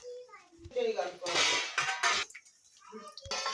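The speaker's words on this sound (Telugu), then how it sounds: "గిన్నెలు కడిగినావుగా?" Dishes and cutlery clatter in a household sink during washing, a couple of loud bursts of clinking and scraping, with children and adults talking around it.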